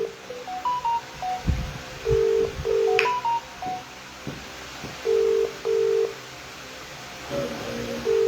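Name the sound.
telephone ringing tone on a call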